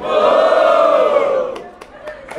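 A battle rap crowd at Batalha da Leste in Itaquera roars loudly for about a second and a half, then the cheering fades and several sharp claps or hits punctuate the quieter tail.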